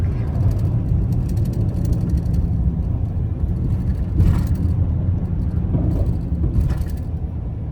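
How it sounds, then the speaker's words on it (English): Steady road traffic crossing a long bridge near a canal on the way to Olympic Peninsula, Washington, a continuous close rumble of passing cars with a few louder swells of vehicles going by. "Lots of traffic."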